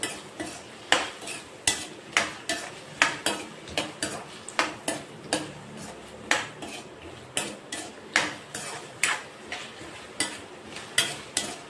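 Potato pieces frying in a pan while a metal spoon stirs them, producing a regular series of sharp clinks and scrapes about once a second over a soft background sizzle.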